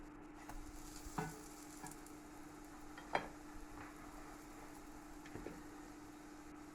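Butter sizzling in a frying pan while cooking buttermilk pancakes, a steady quiet fry with a low hum beneath and a few soft clicks and taps of utensils.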